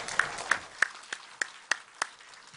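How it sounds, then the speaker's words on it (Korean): Applause at a Korean church thanksgiving service for an ordination and retirement, heard as a sparse, evenly spaced series of single sharp claps of moderate loudness over a quiet hall. "우리 하나님의 영광의 박수 올리겠습니다."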